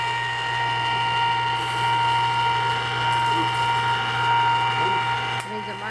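A no-cook strawberry ice cream maker churns with a steady motorized whirring and grinding, continuous, with a low hum beneath and faint clicking, close by.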